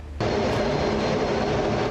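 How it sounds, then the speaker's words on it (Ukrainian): American F-16 fighter jet flying over Romania, a loud, steady broadband roar that starts abruptly and holds at full strength to the end, with no voices. "У небі над країною американський винищувач F-16."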